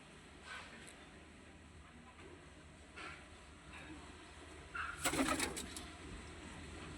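Madras pigeons for sale in Dankuni, Hooghly coo softly at close range, with a louder burst of cooing and fluttering midway over a low, steady background hum.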